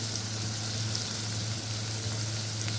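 Sliced onions frying with curry leaves in a pan: a dense, unbroken sizzle, loud and close, with a low steady hum beneath the crackle.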